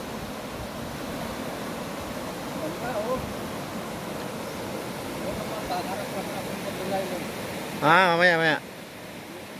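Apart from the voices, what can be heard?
river flowing, the river at Sumogot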